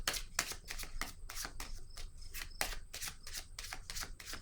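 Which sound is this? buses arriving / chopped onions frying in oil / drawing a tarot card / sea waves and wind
drawing a tarot card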